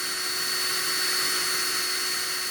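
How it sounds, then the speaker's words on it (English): A small drill bores into a Matchbox die-cast toy car, a Mercury Cougar, with a constant high whirring whine that holds steady throughout at moderate loudness. "sometimes as I'm drilling"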